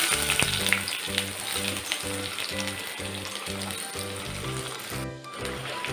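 Chopped onion sautéing in a pan with mustard seeds and curry leaves for Chennai vadacurry, a loud continuous sizzle close up with a faint regular rhythmic pulsing underneath throughout.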